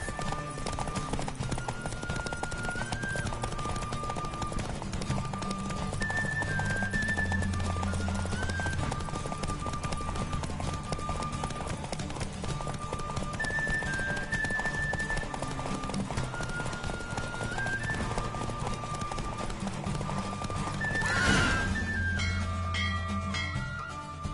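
Hooves gallop in a rapid, continuous clip-clop through a horse race in the video game The Witcher 3: Wild Hunt, over a steady musical score, and a brief neigh rises near the end.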